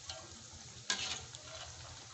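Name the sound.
bakwan vegetable fritters frying in oil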